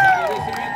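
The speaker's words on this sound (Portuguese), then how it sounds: "Vamos aplaudir os garis!" A crowd at a 7 de Setembro civic parade in Ipatinga, Brazil, cheers and applauds the street sweepers in a brief, lively burst, with a thin tonal whistle-like line over the noise.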